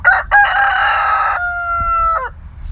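A rooster crows loudly nearby, one long strained cock-a-doodle-doo that rises and trails off, with faint background noise.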